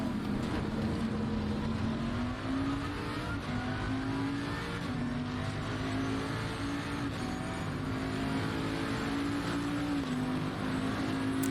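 Race cars in a sim racing game at the Zolder circuit drone steadily, the engine note rising and falling as they accelerate and shift, a continuous close engine whine with other cars alongside and no talking.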